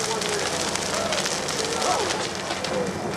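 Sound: fire burning an insulated test structure

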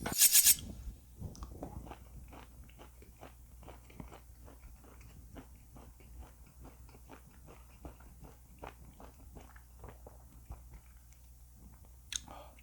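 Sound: chewing grilled beef chuck flap

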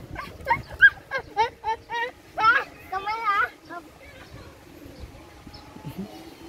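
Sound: birds, pigeons cooing

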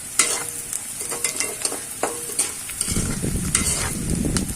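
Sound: onions and spices frying in a pan

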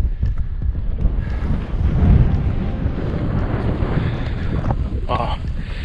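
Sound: strong wind in the desert

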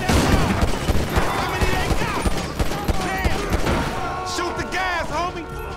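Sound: gunfire shooting at a gas trail, video game

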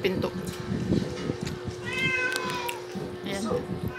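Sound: cat meowing at the door

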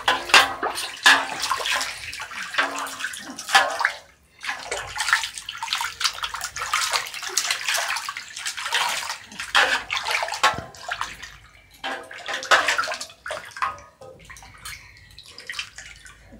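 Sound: child splashing water with hands and feet during bath

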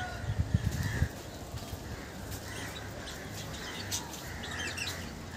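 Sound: birds chirping in a small park zoo

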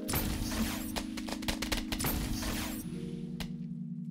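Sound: Thundergun shots in Black Ops 3 Zombies video game

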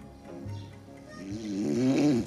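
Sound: greasy, snotty snoring of a sleeping man

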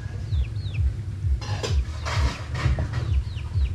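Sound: chickens clucking

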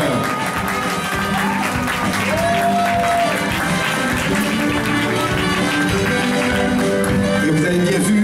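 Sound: carnival audience applauding a costumed woman

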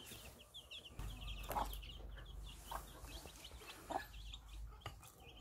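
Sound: hens clucking

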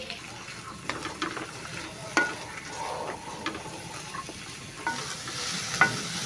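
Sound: vegetables and capsicum frying for samosa filling

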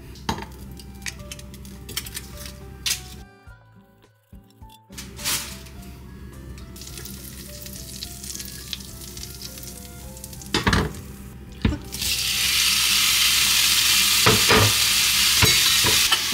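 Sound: butter and meat sizzling in a frying pan

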